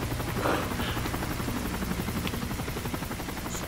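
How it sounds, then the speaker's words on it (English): Helicopter in Call of Duty: Modern Warfare 3, a steady rhythmic rotor chop and engine drone filling the whole short stretch, loud and close with no talking. "Oh my gosh. Helicopter."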